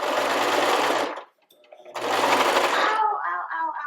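A sewing machine stitches a homemade pocket cloth diaper in two steady whirring runs broken by a short pause, close and loud, with faint voice at the end.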